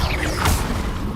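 Spell effects from Hogwarts Legacy, Levioso and Confringo cast in combat: a dense, loud wash of magical whooshing and crashing noise with a brief swelling burst in the middle, no voices.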